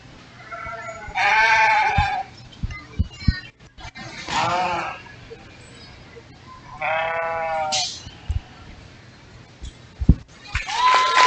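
Sheep in a county fair show arena bleat in several loud, wavering calls spaced a few seconds apart, with quieter thumps and muffled crowd noise in the background.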